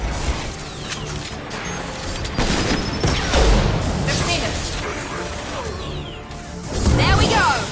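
Heavy gunfire and explosive crashes from a Mass Effect Legendary Edition firefight against heavy mechs, a dense, continuous barrage of bursts and booms with louder surges, mixed with a voice calling out during combat.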